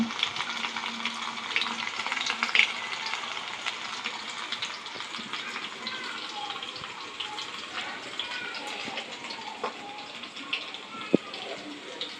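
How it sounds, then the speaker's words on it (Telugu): Garlic frying in oil until golden, a close continuous bubbling sizzle with occasional soft clicks of stirring, steady and fairly loud throughout with a voice speaking faintly at points. "బాగా గోల్డ్ వచ్చే వరకు దాకా ఉంచుకోవాలండి"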